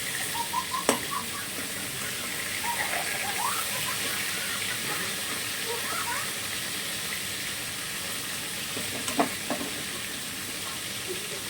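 Small magur catfish frying in oil, a continuous hissing sizzle at moderate level with a few brief bubbling pops and a couple of sharp utensil clicks, heard alone without speech.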